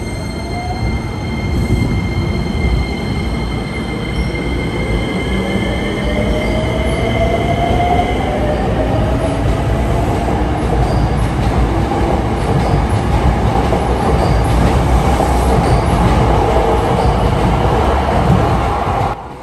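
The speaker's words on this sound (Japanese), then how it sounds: "特急電車が茨城市駅を発車。" A Hankyu Kyoto Line limited express train pulls out of Ibaraki-shi station with a loud, continuous rumble, a rising motor whine, faint wheel squeal and rhythmic clickety-clack over the rails.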